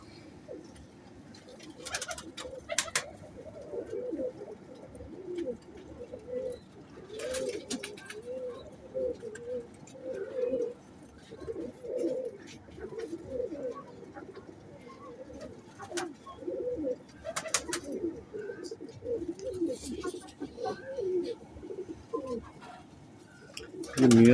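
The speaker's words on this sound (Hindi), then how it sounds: "ये मियाँ साहब वाले कबूतर हैं दोस्तों," Several Lal Pari pigeons coo repeatedly in soft, throaty rumbles, overlapping at close range, with occasional faint chirps and brief rustling in the background.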